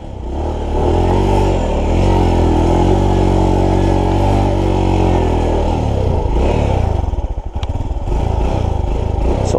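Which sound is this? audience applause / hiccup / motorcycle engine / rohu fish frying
motorcycle engine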